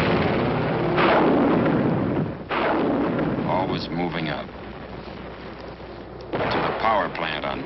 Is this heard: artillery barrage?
yes